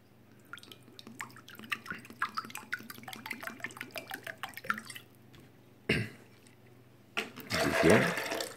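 Water poured in three measures over ground tiger nuts for homemade protein milk: a splashing burst near the middle, then a longer, louder pour at the end, after softer clicks and handling sounds.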